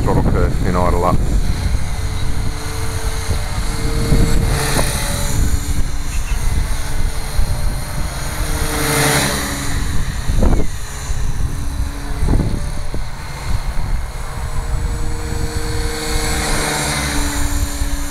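A Gaui RC helicopter running on a 3000mAh 6S battery whines loudly in flight, its rotor and motor pitch rising and falling as it moves, with brief sharp swells and a voice talking intermittently beneath.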